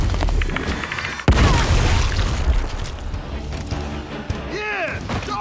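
Heavy automatic gunfire rattles through a Gears of War firefight, close and loud, with a sharp blast and rolling booms under a continuous battle din while a voice calls out and shouts.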